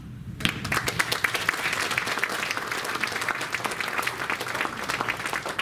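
Applause for volunteers at a hypnosis and NLP congress, starting abruptly after a brief quiet moment and then holding as a steady, moderately loud roar of many clapping hands for several seconds.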